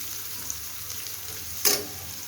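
Garlic, onion and dried chillies frying in oil in a pan, a soft steady sizzle close by with one brief louder crackle near the end.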